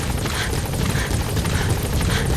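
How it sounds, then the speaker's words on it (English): A support helicopter arrives in the video game Metal Gear Solid V: The Phantom Pain, its rotor thumping in a steady fast pulse over a dense, loud engine roar, close and continuous with no voices. "Support helicopter has arrived."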